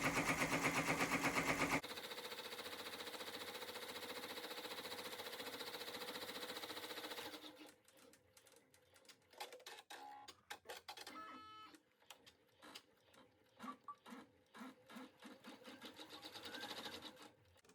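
An embroidery machine stitches a design on fabric for a sweatshirt or T-shirt, loaded with black bobbin thread; a loud, fast, even needle clatter runs close, then breaks into shorter stop-start bursts with clicks and pauses.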